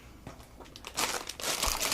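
Plastic bag crinkling and rustling up close as a Space Jam action figure toy is unbagged, starting in soft bursts then growing louder and continuous.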